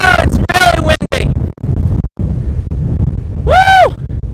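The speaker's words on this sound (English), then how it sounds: "Whoa, it's windy." Strong wind buffets the microphone at the tip of a waterfront park in Tokyo, roaring loudly and almost nonstop, with a person exclaiming and talking over the gusts.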